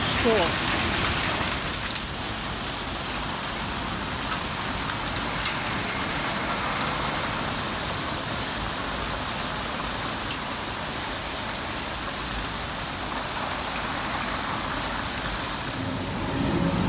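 Rain falls steadily in Tel Aviv while the sun is out, a dense constant hiss of drops hitting surfaces outdoors, with faint passing traffic mixed in.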